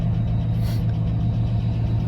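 A Dodge Ram engine runs steadily just after a cold start, with low oil pressure, giving a continuous low rumbling idle heard close and alone, without talk.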